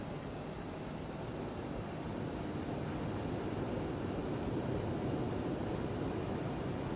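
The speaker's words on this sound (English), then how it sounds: "Alright, thrust reversers are out." Airliner in a flight simulator game rolling out after landing with thrust reversers deployed, a steady, dense engine roar and rumble that holds level throughout.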